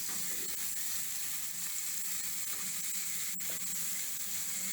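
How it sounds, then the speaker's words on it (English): Onions frying in oil in a heated pan, a steady close sizzle and hiss that continues throughout, with one brief sharp tick partway through. "Put in oil in the heated pan and start with the onions to fry them."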